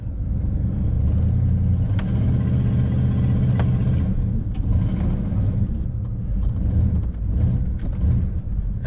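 Old vehicle's engine rumbling steadily as it is put in gear and begins rolling after being parked a long time, with mechanical rattles and clunks over a low, fairly loud drone.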